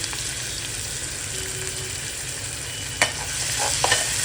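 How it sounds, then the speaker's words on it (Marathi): Chopped onions sizzle in oil with curry leaves and garlic for a Maharashtrian moong dal and onion dish, a steady crackling hiss broken by a sharp stirring clatter near the end, with no one speaking. "आता आपण लाल होऊन देऊ जरा कांदा।"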